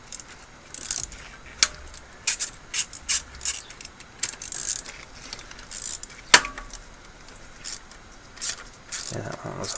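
A hand ratchet working loose the camshaft bolts on a cylinder head, bursts of quick clicking and metallic ticks scattered across the clip, with a sharper clunk near the middle and steady background noise.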